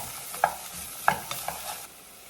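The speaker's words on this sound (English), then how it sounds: "So we'll let this saute up" Onions, garlic and celery sautéing in a pan for minestrone soup, a soft steady sizzle broken by a few sharp clicks of a spoon against the pan, with no voices.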